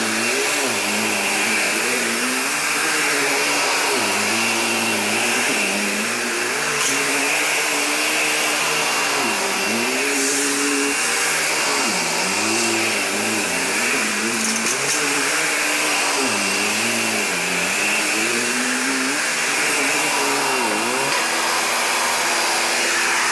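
A 2005 Hoover Empower upright vacuum cleaner runs continuously, a loud steady motor whine and airflow roar with small rises and dips in pitch as it moves across the floor.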